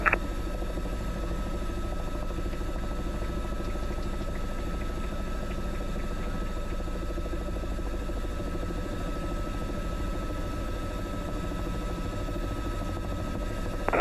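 A steady, droning Robinson R44 helicopter engine and rotor hum continuously with a low rumbling thrum, unchanging and fairly quiet throughout, at an airport.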